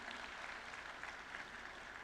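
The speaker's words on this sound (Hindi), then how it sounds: "आपकी तालियों की गड़गड़ाहट यूं ही बनी" An audience at a national water awards ceremony applauds, a dense, even wash of clapping hands that fills the short moment without voices.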